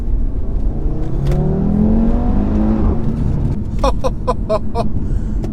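Audi RS3 engine driving hard down a small road, a loud continuous rising rev with sweeping harmonics, followed by a run of sharp rapid pops or crackles near the end.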